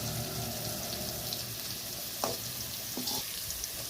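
Pirandai (adamant creeper) sautés in a pan with a steady close sizzle and crackle, a couple of brief scraping stirs near the end.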